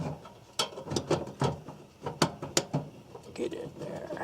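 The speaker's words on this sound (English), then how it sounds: "And then we'll put our screws back in." Screws being driven back into the panel of a house A/C unit with an X13 evaporator fan. Close ratcheting and clicking comes in irregular bursts, with low scraping and handling sounds between them.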